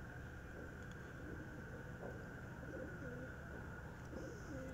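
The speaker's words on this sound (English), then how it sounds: "Sorry for the bird sound if you heard that." A bird calls faintly outdoors at night, soft cooing notes repeating now and then over a quiet steady background hum.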